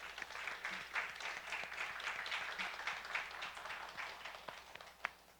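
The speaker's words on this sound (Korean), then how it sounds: "우리 박수로 돌립니다." Steady applause from a church congregation at a 2023 Christmas service, a dense wash of many hands clapping at moderate volume throughout, with a few sharper claps standing out near the end.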